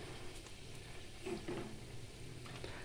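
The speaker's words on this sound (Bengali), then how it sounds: "এটা শুকনো খোলায় ভেজে নিচ্ছি" Puli pitha dry-roasting in a dry pan produces a low, steady hiss and faint stirring scrape, close and quiet, with a couple of brief tonal squeaks midway and no speech.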